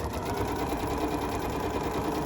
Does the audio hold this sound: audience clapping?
no